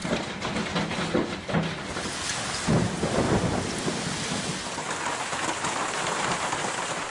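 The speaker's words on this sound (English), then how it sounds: "Hail plummeted from the skies." A violent storm front over Sydney brings hail and rain, a dense, continuous roar of falling ice and water with rumbling undertones, loud and unbroken from start to finish.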